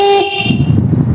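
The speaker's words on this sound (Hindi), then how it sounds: "देखिए हॉर्न अभी चला है, बहुत ज़ोर से झटका मारा इसमें।" Electric horn from an e-rickshaw, wired straight to a battery for testing and with a broken internal wire, gives a loud steady honk of about a quarter second, then a jolt of rough buzzing noise.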